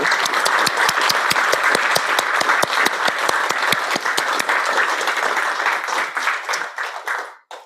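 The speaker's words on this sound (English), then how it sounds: "So I'd like a big round of applause for the class of 2022." An audience applauds the graduating class of 2022 at an MA Art and Science symposium, with sustained clapping that is loud, dense and fairly even before tapering off near the end.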